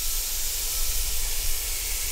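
Teriyaki-marinated salmon laid skin side down on a hot charcoal grill hisses with a steady, broad sizzle that holds at an even level throughout, close and unbroken, with no talking.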